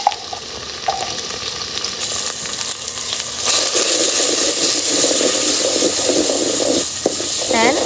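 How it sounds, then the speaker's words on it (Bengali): Red chili powder and cumin powder spice mix frying and being stirred in a pan, a steady loud sizzle that swells partway through with scraping stirs, and a faint voice briefly in the background. "ভালোভাবে সব কিছু মিক্স করে মশলাগুলো কষে নিচ্ছি"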